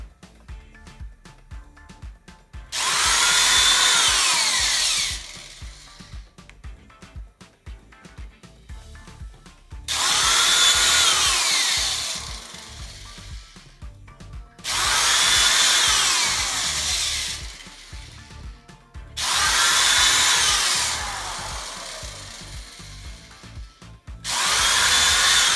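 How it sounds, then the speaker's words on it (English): A power drill bores holes into the wood of IKEA Lack shelves in four long bursts of several seconds each, separated by short pauses with light handling noise. "so let's get started drilling"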